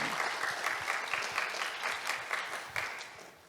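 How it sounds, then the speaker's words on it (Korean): Hall audience at the closing of an academic award ceremony and peace conference clapping for the announcer; a fairly faint, steady patter of many hands, lightly rhythmic, easing off at the end. "우리 아나운서님이 빠졌네요. 아나운서님한테 큰 박수를 여러분 한번"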